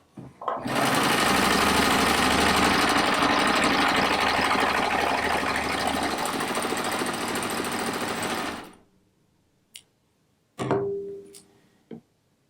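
A sewing machine runs continuously for about eight seconds, loud and close with a rapid droning rattle, stitching an X across the underside of a rag quilt, then stops, followed by a few brief knocks and clicks.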